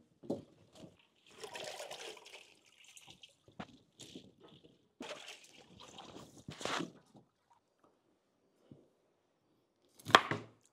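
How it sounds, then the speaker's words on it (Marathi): Knife chopping bitter gourd (karela) on a board in irregular bursts of crisp close cuts, with pauses between runs, one sharp cut near the end. "आपण आता सर्वप्रथम कारले कट करून घेऊ"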